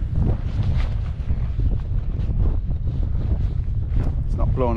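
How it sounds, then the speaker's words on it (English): Strong wind at a Lake District wild camp buffets the microphone in continuous gusts, with rumbling low noise and brief faint voices underneath. "It is quite windy."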